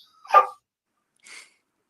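A dog barks once, close and clear, followed by a fainter short yelp about a second later against silence.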